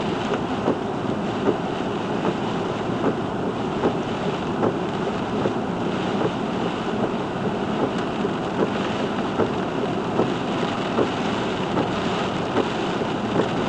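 A sudden nighttime storm roars around a car on a dark road, with a constant heavy rush of wind and rain buffeting the vehicle, loud and unbroken throughout.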